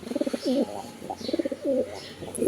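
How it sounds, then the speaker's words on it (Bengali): Close, repeated throaty coos from a female pigeon in rhythmic bursts, one call after another, with faint background noise. "এইটা একটা মাদি কবুতর"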